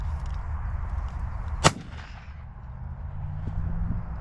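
A single sharp shotgun report cracks out while shooting crows and pigeons in the UK countryside. Quiet outdoor ambience surrounds the one shot.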